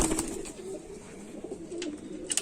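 A golden Kamagar pigeon coos softly in a few low, rolling calls, with faint higher chirps and rustles nearby and no talking.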